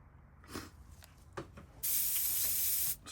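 An Iwata PS771 Krios airbrush lets out a steady, close hiss of sprayed paint for about a second, after a few faint taps and handling noises.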